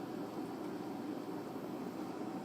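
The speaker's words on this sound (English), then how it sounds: "you can hear my air conditioner in the background" A home air conditioner runs in the background, giving off a steady, even broadband hum and hiss at moderate level with no change and no voices.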